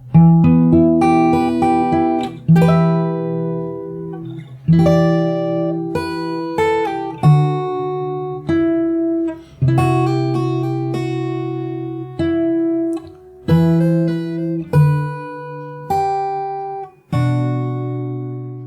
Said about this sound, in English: I'll play the whole bridge again really slow.